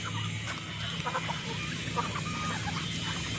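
Chickens and turkeys cluck softly while feeding after a brief rain, scattered short calls from several birds close by over steady background noise.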